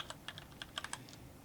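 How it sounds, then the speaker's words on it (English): Short burst of typing on a computer keyboard, about eight quiet distinct key clicks at an uneven pace with no talking. "I typed a D and a B."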